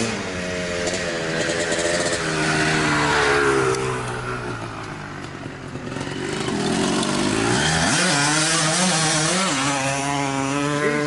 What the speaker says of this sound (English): Oh man, I've never seen a bike roost like that, ever.